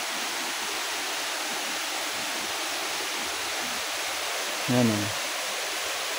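Nalalata Falls in Bula, Camarines Sur, Philippines, pours as a steady broadband rush of falling water, constant and close, with a brief voice cutting in near the end.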